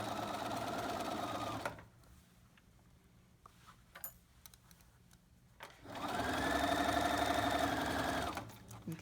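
A sewing machine stitches a side seam at a 5/8 gauge, running steadily for about two seconds, stopping through a quiet pause, then running again in a long, loud, even burst before stopping, with no talk over it.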